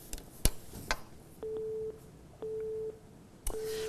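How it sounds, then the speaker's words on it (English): After a dropped phone call, a telephone busy signal repeats as three loud, evenly spaced tone bursts, preceded by a few sharp line clicks. "I think we lost Joshua on the phone line"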